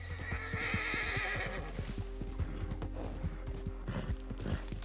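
A horse in the video game Red Dead Redemption 2 whinnies loudly over rhythmic clip-clopping hooves, with continuous background noise underneath.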